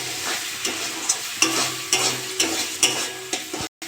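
Spice paste mixed with ground poppy seed and char magaz paste being stir-fried in oil, a loud close sizzle with regular spatula scrapes about every half second, a brief break near the end; no voices.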